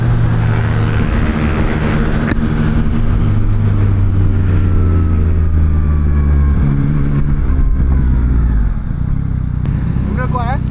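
A 2024 Yamaha MT-09 motorcycle with a quickshifter pulls hard around Sepang race circuit. Its loud, continuous engine note rises and falls through the gears over heavy wind roar, recorded from the rider's position.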